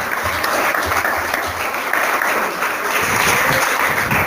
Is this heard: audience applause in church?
yes